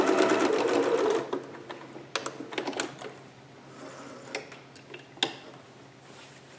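A home sewing machine runs in reverse to back stitch a seam for a Vogue 8280 garment, a brief burst of rapid mechanical stitching followed by faint ticks and clicks.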